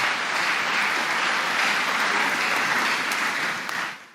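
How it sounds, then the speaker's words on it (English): Church congregation clapping at a worship service in Buea, Cameroon: a thick, continuous burst of many hands clapping together, loud and close, holding steady for a few seconds before tailing off. "Clap for Jesus."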